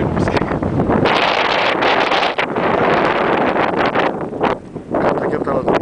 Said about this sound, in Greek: Λίγο φυσάει, άκου λίγο φυσάει.